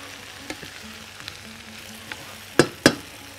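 Food frying in a pan is stirred, giving a soft continuous sizzle with light scrapes, then two sharp, loud clanks of the utensil against the pan close together near the end.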